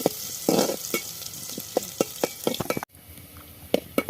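Chopped onions fry in a pan while being stirred, a steady sizzle broken by repeated scraping clicks of the spoon, briefly dropping quieter before the stirring resumes.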